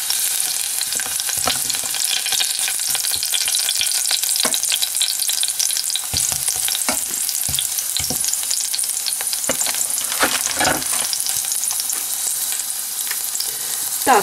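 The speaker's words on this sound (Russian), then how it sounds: "Немножечко его притомляю. Делаю меньше огонь. Чеснок должен просто передать весь свой вкус масла." Garlic sizzles in hot oil in a pan as the base for a creamy seafood pasta sauce, a steady bright crackle with occasional stirring scrapes and pops, no voices.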